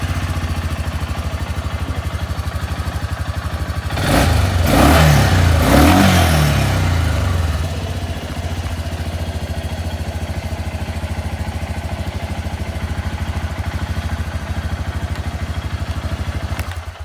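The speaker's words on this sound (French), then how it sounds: "là on entend l'injection se mettre en route" A ten-year-old Kymco Maxxer 450 quad starts up, its fuel injection pump priming before the engine catches with a loud burst of revving and clatter, then settles into a steady, close-up idle.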